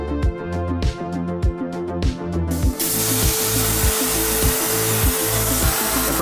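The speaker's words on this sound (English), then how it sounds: "and then cut off wheel the inside." A cut-off wheel grinds into a steel flange for a tube-chassis supercar build. A tool motor first whirs with rhythmic pulsing, then the loud, hissing abrasive cut takes over and continues steadily to the end.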